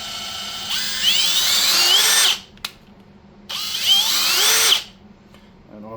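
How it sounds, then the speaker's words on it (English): A Craftsman cordless drill whirs in two close bursts of about a second and a half each, its motor pitch climbing as the throttle is squeezed, with a brief quiet gap and a click between them. "here's the throttle control on the drill."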